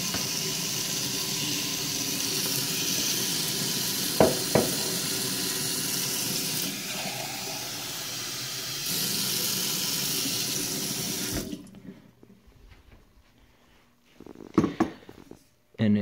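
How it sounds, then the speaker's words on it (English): Tap water runs steadily into a small container for about eleven seconds with a continuous close hiss, then stops, leaving quiet handling noises and faint movement. "fill it up with water."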